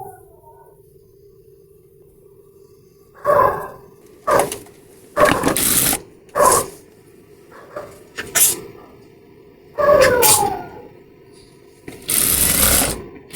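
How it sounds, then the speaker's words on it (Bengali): A sewing machine stitching a dress neckline runs in short, loud mechanical bursts separated by quiet pauses, rattling close by over a faint steady hum. "এভাবে করে প্রথমে সেলাই দিয়ে নিতে হবে"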